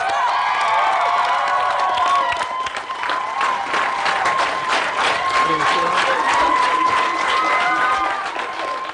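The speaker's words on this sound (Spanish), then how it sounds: "¡Démosle un fuerte aplauso!" Loud applause and cheering from a crowd at a youth summer camp gathering on Utøya, opening a speech by the leader; steady clapping mixes with excited shouts and high whistles throughout, with voices calling over it.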